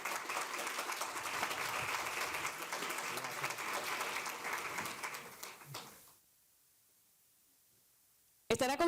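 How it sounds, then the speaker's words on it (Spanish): Loud, sustained applause from a seated audience at a panel discussion on infrastructure fills about six seconds, fading into silence before a brief burst returns at the end. "Roberto Cavada, para quien pido un fuerte aplauso"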